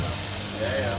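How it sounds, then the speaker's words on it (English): A chopped half onion goes into a pan of hot oil and sizzles with a steady, loud, close hiss, without any talking. "I'm going to put it into a pan. And you hear that sizzle?"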